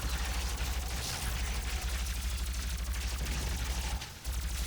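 Enemy fire in the video game DOOM, a dense continuous rattle of rapid shots over a heavy low rumble, sustained loudly with a brief dip near the end.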